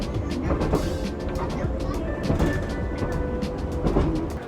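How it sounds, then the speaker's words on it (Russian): Cabin noise aboard a Shinkansen bullet train in Japan, travelling from Hiroshima toward Takayama: a steady low rumble with faint rhythmic clicks and a soft hum, with voices talking quietly throughout. "Мы снова в поезде, мы в Шинкансене."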